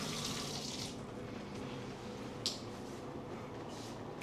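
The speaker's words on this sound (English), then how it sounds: "Fill up this tub." Running tap filling a bathtub in a Vietnamese love hotel room, a steady broadband rush of water that holds constant throughout, with a couple of faint splashes near the end.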